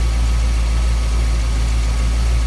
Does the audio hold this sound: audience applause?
no